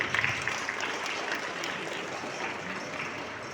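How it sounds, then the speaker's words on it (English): Students at a motivational session for 10th-standard pupils applaud together, a broad, steady wash of dense clapping that holds fairly evenly throughout without voices rising above it. "Can we give a big round of applause to Shakuntala Devi?"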